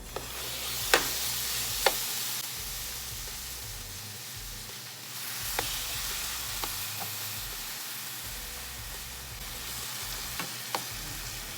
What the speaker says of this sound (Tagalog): Ngayon nagpainit na ako ng pan, lulutuin na natin siya dito.